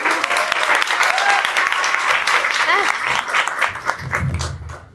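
A crowd breaks into warm, steady applause that fades out near the end as a voice begins to speak.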